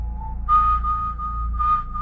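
A clear, sustained whistle holds a single pitch with two brief swells, over a low steady hum.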